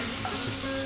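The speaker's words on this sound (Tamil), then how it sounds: "நம்ம கடலை மாவுல ரெடி பண்ணின அந்த கட்டாவை ஃப்ரை பண்ணலாம்." Gram flour katta pieces frying in a pan with spices such as cloves, cardamom and cinnamon, a short, dense, steady sizzle heard close up.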